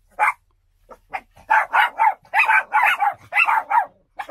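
A dog barks repeatedly near a camper, a run of sharp, loud woofs in quick rhythmic bursts after a couple of isolated barks.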